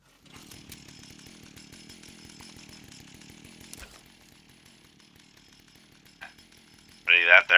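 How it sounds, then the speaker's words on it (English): A flaming chainsaw with long bow bar, flamer mod and Halloween paint in Fallout 76 runs with a buzzing, pulsing engine drone, then cuts off before a short burst and a loud roaring flare at the end. "that's with the long bow bar and the flamer mod and the Halloween paint on this flaming chainsaw"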